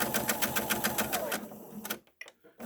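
Sewing machine stitching slowly through several layers of fabric for a pleated face mask, a steady rhythmic run of needle strokes that pauses briefly and restarts with a few short bursts, close and alone.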